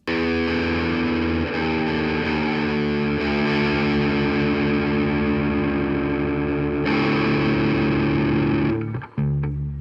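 A heavily distorted Gibson VooDoo Melody Maker electric guitar chugs and sustains thick, saturated chords for several seconds, loud and continuous, then cuts off abruptly near the end.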